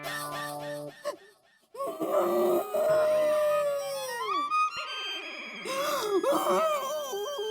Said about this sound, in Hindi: वो तो मैं हूँ, मेरे रोने की आवाज है